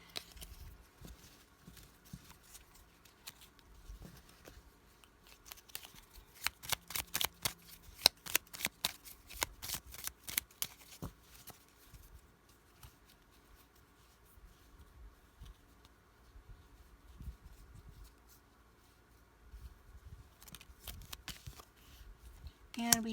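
A deck of tarot cards being handled and shuffled to draw a card, with soft riffling flutters and a dense run of quick card clicks midway, fairly quiet and close.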